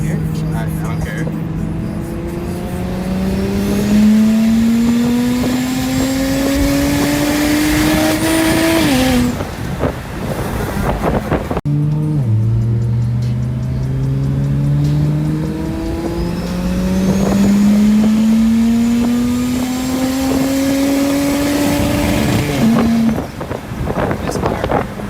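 A single-turbo BMW N54 335i engine revs hard in long rising pulls, loud and close, with sharp misfire pops and crackles as the revs drop, over wind noise and some talking.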